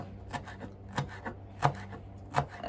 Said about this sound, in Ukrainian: Нарізаємо кропчик.